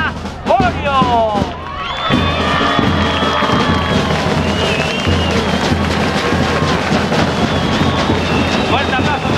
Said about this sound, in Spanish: Fuerte aplauso para los remeros Orio Tarras con esta medalla de plata de juveniles